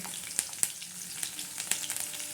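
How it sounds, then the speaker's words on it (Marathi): Curry leaves and garlic hit hot oil for a tempering, giving a steady close sizzle with a few sharp crackling pops scattered through it. "कढीपत्ता टाकलेला आहे लसूण टाकलेला आहे"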